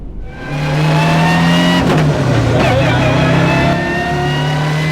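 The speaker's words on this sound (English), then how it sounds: "my mate Damien Bradley said come and drive Team Legacy's amazing 800 horsepower Legacy hill climb car" A loud 800-horsepower Legacy hill climb race car engine revs hard, its pitch climbing and dropping through gear changes, close and continuous throughout.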